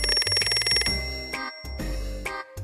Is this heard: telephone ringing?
yes